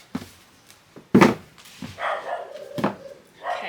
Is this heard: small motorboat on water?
no